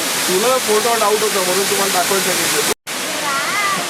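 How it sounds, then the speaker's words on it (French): Namuang waterfall near Lamai on Koh Samui gives a continuous broad hiss of falling water, steady and fairly loud beneath someone talking throughout. "Ici, on est à la cascade Namoueng, à proximité de la ville de Lamai sur l'île de Koh Samui."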